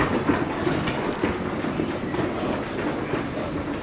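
A historic 1902 wooden Otis escalator runs at Macy's Herald Square in Manhattan, giving off a steady rumbling mechanical clatter with rhythmic clicking, heard up close throughout.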